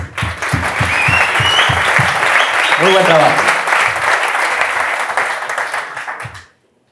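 A conference audience at a Blender event applauds the developers in a loud, sustained burst that starts with a few separate claps, swells into dense clapping with a brief voice over it, then cuts off abruptly.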